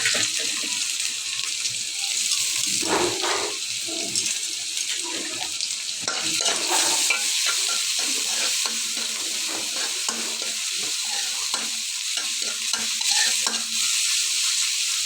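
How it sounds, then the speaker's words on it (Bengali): Panch phoron with ginger, garlic and onion paste frying in a pan for a fish-head curry, a steady close sizzle with scraping stirs and a few louder bursts running throughout, no talking. "তো আমি দিয়ে দিচ্ছি পাঁচফোড়ন আদা রসুন পেঁয়াজ বাটা"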